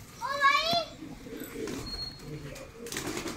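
Pigeons cooing softly up close in a short burst, with someone speaking over the birds.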